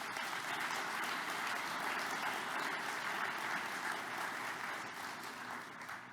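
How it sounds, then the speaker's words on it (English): Sustained applause from a conference audience at a scientific society's presidential address, a dense, even wash of clapping that holds steady and tapers slightly toward the end. "Let's have a round of applause for Chloe."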